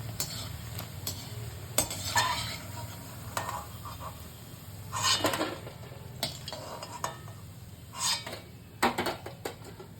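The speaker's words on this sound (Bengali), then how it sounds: "দেখো পকোড়া ভাজছি।" Utensils clatter and scrape against a pan in repeated bursts over a low, steady sizzle of onion and gram-flour pakoras frying, with occasional clinks throughout.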